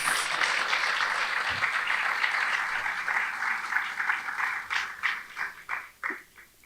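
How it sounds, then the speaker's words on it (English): Crowd applause at an annual academic awards ceremony for a credit union thrift club, a dense sustained wash of many hands that thins out toward the end into scattered claps. "can we have another round of applause for the awardees?"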